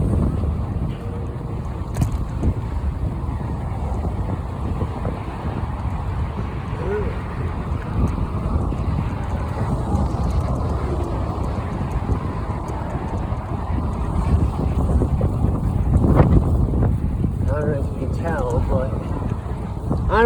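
Wind buffets the microphone during an outdoor bike ride, a continuous low rumbling roar with gusts that swell louder toward the end, with no clear speech over it.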